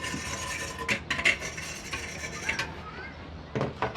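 A brush scrubbed back and forth over a Weber grill, faint scraping strokes with a few sharper metallic scratches and clinks, fairly quiet and close.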